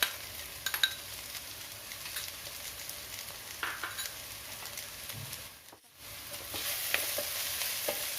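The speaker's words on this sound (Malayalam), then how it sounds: "ഇതും കൂടെ ചേർത്ത് നമുക്ക് നന്നായിട്ടൊന്ന് വഴറ്റിയെടുക്കണം." Ginger garlic paste sautéing with beef in a pan during a beef roast, giving a soft steady sizzle with scattered scraping stir clicks, briefly dipping quiet near the middle before the frying hiss swells back.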